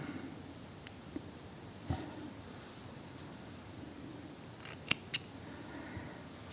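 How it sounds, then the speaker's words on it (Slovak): Scissors snip crochet thread in a few quiet, sharp clicks, two close together standing out against a faint background hiss. "odstrihnem nitku"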